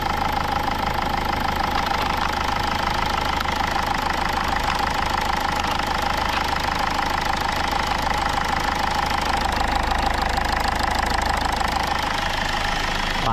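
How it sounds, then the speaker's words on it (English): A Rover 75's BMW M47 diesel engine idles steadily, a smooth continuous clatter with a fine rhythmic knock and a low hum, close and even throughout with no talk. "That is a refined diesel engine there."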